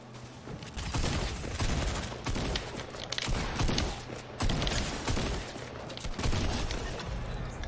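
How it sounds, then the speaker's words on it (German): Game weapons fired one after another in a video game, bursts of dense gunfire and explosive shots following in quick succession at close range, loud throughout with brief gaps between volleys. "Jede Waffe einmal geschossen."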